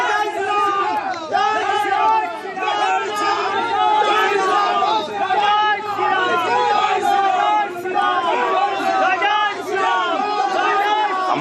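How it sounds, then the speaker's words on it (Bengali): A large crowd chants and shouts political slogans at a rally crossroads in Kotulpur market, Bankura, a dense, continuous roar of many voices in rhythmic waves, rising and falling every couple of seconds. "মিছিল কতুলপুর বাজারে চৌরাস্তা মোড়ে পৌঁছতেই তুমুল স্লোগান যুদ্ধ"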